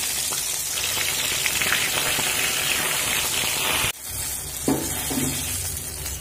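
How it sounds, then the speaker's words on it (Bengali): Cut eggplant pieces frying in hot refined oil, a loud dense sizzle filling the whole clip, briefly dipping near the end before a sharp clatter or stir and the crackle continuing. "যে বেগুনগুলো কেটে রেখেছি বেগুনগুলো ভেজে নেব।"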